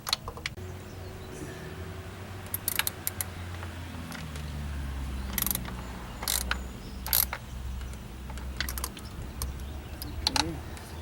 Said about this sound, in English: I'm going to tighten the nut on the stud here that holds it in.